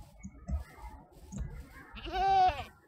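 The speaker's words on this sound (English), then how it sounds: "Is that a goat?" A goat bleats once in Minecraft, a short wavering cry near the end, clear and close, following a few faint soft game sounds.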